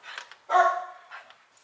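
Puppies give a few short, faint yips and one brighter bark indoors at a house, brief and close, with no talking.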